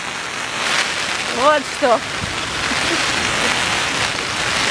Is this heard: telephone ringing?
no